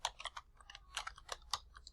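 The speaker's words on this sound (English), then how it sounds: "I'll just type that." Quick bursts of keystrokes on a computer keyboard, clustered clicks with brief pauses between, close and fairly quiet with no talking.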